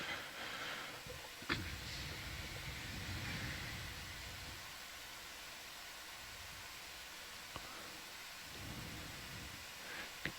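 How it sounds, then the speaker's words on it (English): Light drizzle falls on the deck of a research ship at sea, a soft steady hiss of rain with a few sharp taps and knocks close by, and no voices. "It looks like it's just drizzling now."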